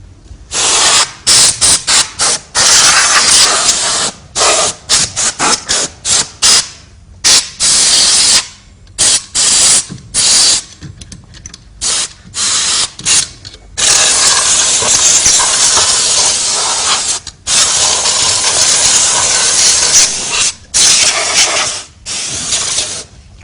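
Compressed air blasts dust out of a computer power supply in loud hissing bursts, many short sprays broken by brief pauses and a few longer sustained blasts, with no talking.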